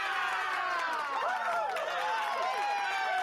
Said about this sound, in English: I had to use one of the Apple sound applauses